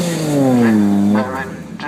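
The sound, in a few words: Vauxhall Firenza (Chevrolet) race car engine at Donington show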